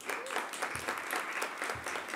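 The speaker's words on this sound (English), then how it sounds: "Ladies and gentlemen, you want to clap for yourself, please?" A high school audience applauds at an event, sending up a steady wash of many hands clapping together that holds at an even level throughout.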